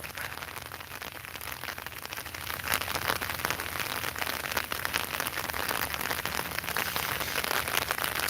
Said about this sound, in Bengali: আসলে এখন বৃষ্টির সময় না, তারপরেও কিন্তু বৃষ্টি হচ্ছে